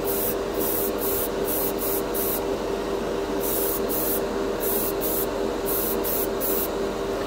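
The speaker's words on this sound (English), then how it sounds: "Now I tried, I'm going to show you guys now, spraying it over lighter colors." An aerosol can of Dspiae color shift metallic paint hisses steadily at close range, coating a spoon in one continuous loud spray with a few short breaks in the nozzle burst pattern.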